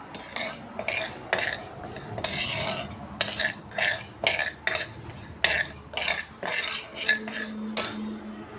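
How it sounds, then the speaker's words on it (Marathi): Fenugreek seeds dry-roasting in a pan while a metal spoon stirs them, making a steady run of rhythmic scraping and clinking strokes against the pan, close and clear with no talking. "मेथी आहे ना, ती एक 2-3 मिनटं मी थोडेसे भाजून घेते"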